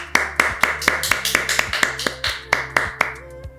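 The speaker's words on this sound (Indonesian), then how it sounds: "Tepuk tangan." Single pair of hands clapping close up in a steady, sharp rhythm, roughly three claps per second, each crisp slap standing alone with no talking.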